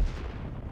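A loud explosion booms at an airfield in the sandbox game Garry's Mod, a dense low-frequency rumble that holds steady throughout with no talk over it.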